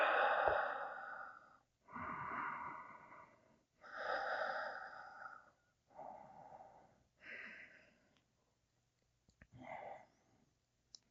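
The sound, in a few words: deep breathing during a yoga twist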